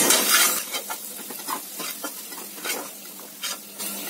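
Potatoes frying in a little oil in a pan, a bright crackling sizzle with repeated stirring scrapes and light utensil clinks, close and unaccompanied by speech.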